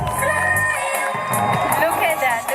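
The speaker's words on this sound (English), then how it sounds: "Can I hear some claps?" Audience at a fashion show cheering, whooping and shouting loudly in a packed hall, dense crowd noise with music and voices mixed in throughout.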